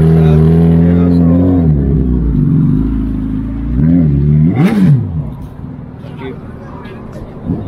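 A 1600 cc BMW driving past, its engine note climbing and falling as it goes by, with a loud passing swell midway and talk over the sound throughout.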